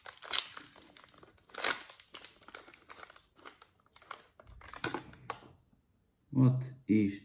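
The paper wrapper of a pocket sandwich from a German market is opened with bursts of close crinkling and rustling, then someone briefly speaks at the end.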